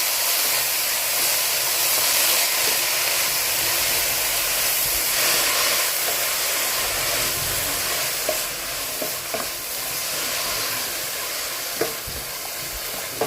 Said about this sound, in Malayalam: എന്നിട്ട് നമ്മളിതിലേക്ക് ചീര ഇട്ടു. ചീര ഒന്ന് ഇളക്കി കൊടുക്കുക.